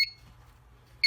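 Two short electronic trouble beeps from a commercial fire alarm panel, one at the start and one at the end, separated by near silence and a low hum.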